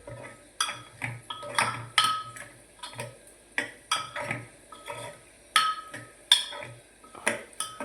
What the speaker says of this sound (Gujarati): કરી દો મિક્સ